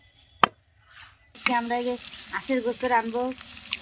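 Duck skin hits hot oil with green chilies in a village kitchen, and a sudden loud sizzle starts after a brief quiet with a clack, then keeps frying steadily while a person talks over it.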